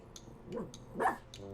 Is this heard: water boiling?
no